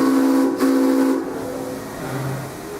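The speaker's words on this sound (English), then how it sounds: "Train is leaving Soak City." A Kings Island and Miami Valley Railroad train's steam whistle sounds loud and close with a sustained hiss as it departs the Soak City station, then fades into steady rumble with a lower tone near the end.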